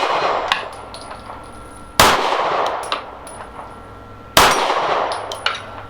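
Two sharp pistol shots from a Dan Wesson DWX Compact ring out at a shooting range, each followed by a metallic clang of a steel target, with a few lighter pings between them.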